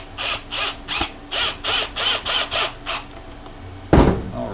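A power drill drives a screw into a homemade kayak battery box in about eight short, loud, evenly spaced whirring bursts, followed by a single heavy thud near the end.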